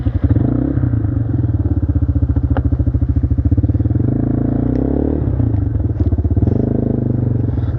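A 200cc quad engine revs steadily and close while riding, a rapid throbbing putter with brief clatters and thumps from the terrain, holding fairly even loudness throughout.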